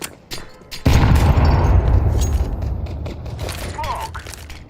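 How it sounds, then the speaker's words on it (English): A loud boom from a grenade blast in a tactical shooter video game, a sharp burst followed by a long rumbling decay with scattered gunfire and mechanical clatter after it. "Grenade out."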